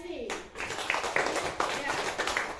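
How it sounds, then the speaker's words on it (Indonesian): Classroom of students clapping for a discussion group, a dense patter of many hands filling the room, with a voice talking over the start. "Kita berikan tepuk tangan untuk kelompok 2 yang sudah selesai diskusi."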